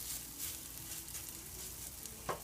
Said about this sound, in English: Then you're gonna spoon some of this stuff out that we made right onto the pan.